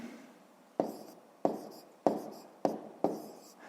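Hand writing numbers for a 5th-grade math exercise: five quick pen-on-paper strokes in an even rhythm, each a sharp tap trailing into a short scratch, close and clear with no talk.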